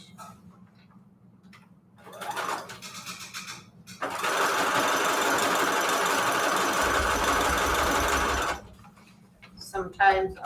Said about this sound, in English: I'm sewing them in on the longest, widest zigzag stitch I can do.